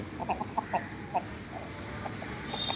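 Tiger-breed rooster raised at home from a day-old chick gives a few short, close clucks in quick succession early on, then quiets over a low farmyard background.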